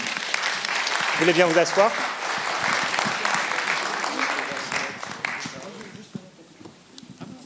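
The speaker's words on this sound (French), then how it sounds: "On peut les applaudir." A festival audience applauds to welcome comic artists on stage, steady clapping that fades out gradually, while a voice speaks over it and a brief cheer rises.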